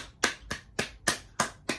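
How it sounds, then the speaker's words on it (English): Six crisp, evenly spaced claps ring out in a quick steady rhythm. They sound close, fairly quiet and isolated, with no talking around them, more like one person clapping than a full audience. "Let's get a round of applause."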